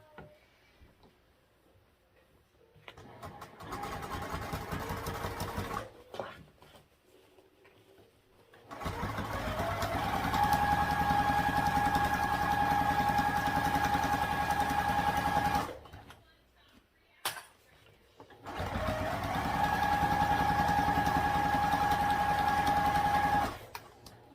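Sewing machine stitching a seam with a 3/8 inch seam allowance, running in three long steady bursts of loud whirring separated by short pauses, close by.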